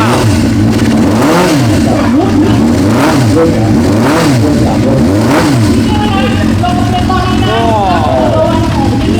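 A Suzuki GSX-400R with a 400cc four-stroke carbureted engine revs repeatedly, the loud close engine note swelling and falling in several rising blips over a steady idle.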